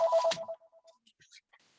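A mobile phone ringtone plays a short electronic melody of bright tones at low volume, followed by a few soft, faint beeps trailing off.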